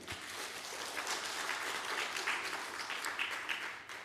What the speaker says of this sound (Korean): 박수 한번 보내죠.